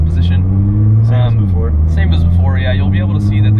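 A Nissan GT-R accelerating gently on the road at light pedal, its engine drone steady and loud from inside the car, with a gear shift partway through, while people talk over it.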